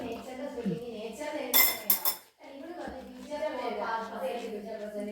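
A cooking pan is held by both handles and swirled while making pulao, giving a brief burst of metallic clinks and clatter near the middle, with people speaking around it.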